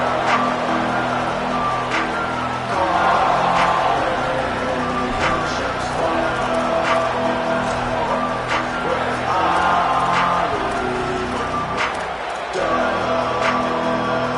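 Football stadium crowd at an early-season 2026 game, a broad continuous roar of many voices with periodic swells and sharp peaks, loud and sustained throughout, with a commentator's voice faintly beneath.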